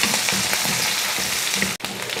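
Onion sautés in oil in a kadai with a continuous close sizzle, faint stirring scrapes and a brief dropout near the end.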